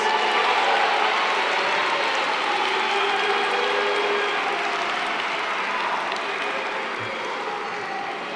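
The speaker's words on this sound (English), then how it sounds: "And let us give them a big round of applause." An audience at South Africa's 2025 State of the Nation Address breaks into sustained applause, a dense, steady wash of clapping from a large crowd that continues at an even level for the whole stretch.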